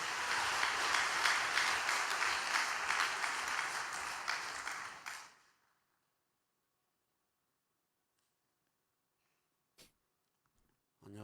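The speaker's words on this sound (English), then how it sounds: "Let's welcome President Lee Gi-sung with a big round of applause." A big round of applause greets President Lee Gi-sung at a Cheonshim Won vigil devotion, dense crowd clapping for about five seconds before cutting to near silence with a faint bump or two.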